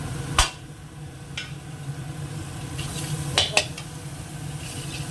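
Spice masala being fried and stirred hard in a wok (kadai) with a metal utensil; sharp clanks against the pan at intervals over a steady low sizzle, close and without talk.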